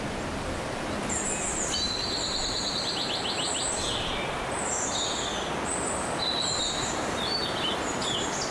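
Birds sing and chirp in a natural outdoor setting beside flowing water, with repeated short high calls scattered throughout over a steady, loud wash of water noise.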